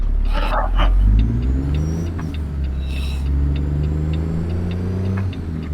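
A Kenworth 100th-anniversary truck in American Truck Simulator pulls away, its engine rumbling loud and close and rising through the gears in a steady, droning roar.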